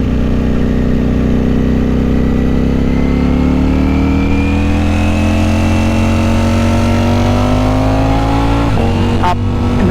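A Ducati Streetfighter V4S motorcycle engine pulls hard under acceleration, its steady rising drone climbing in pitch for several seconds before a quick-shifter gear change near the end, loud and close with no talk.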